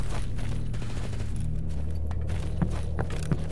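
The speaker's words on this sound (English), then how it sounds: "That's a quick sounding gun." Rapid gunfire from a weapon in the video game STALKER GAMMA, heard as a dense, continuous stream of sharp shots with a steady rhythm, fairly loud over a low rumbling game backdrop.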